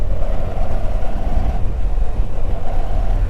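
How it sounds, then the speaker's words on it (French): A Moto Guzzi V85 TT motorcycle engine pulls steadily through the gears on the road, a continuous droning rumble mixed with rushing wind noise, with no speech. "C'est une machine assez souple hein, au niveau du moteur."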